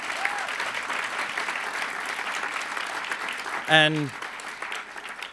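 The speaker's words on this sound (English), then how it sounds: "So a big round of applause to the museum." Audience applause rings out for the Museum of the Moving Image, a dense steady patter of clapping across the whole stretch, with a brief spoken word breaking through near the end.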